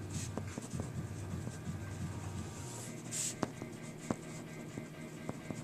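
A green pen writes on lined paper, scratching softly and steadily, with a few sharper taps and clicks standing out close by over a low background hum.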